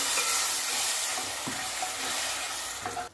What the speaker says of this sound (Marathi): पाणी टाकल्यानंतर मस्त असं तेल सुटेपर्यंत हे भाजून घ्यायचे आपल्याला वाटण